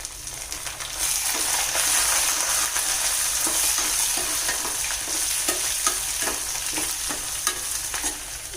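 Ginger and green chillies frying in hot oil for tamarind pulihora while being stirred, a close, steady sizzle with repeated scraping and clinking of a spoon against the pan.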